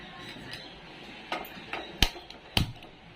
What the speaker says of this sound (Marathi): पातेलं ठेवलंय